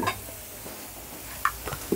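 Grated carrots frying and being stirred in a pan for carrot rice, a steady soft sizzle with a few scraping clinks of the spoon against the pan.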